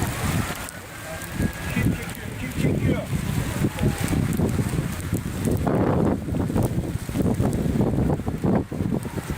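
Heavy gusts of wind buffet the microphone in loud low rumbles, with faint voices in the background.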